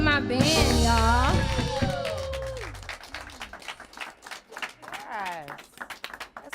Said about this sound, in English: Clap it up for my band, y'all.